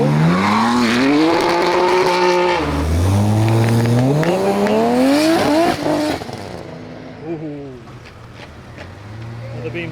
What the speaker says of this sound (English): Another BMW F80.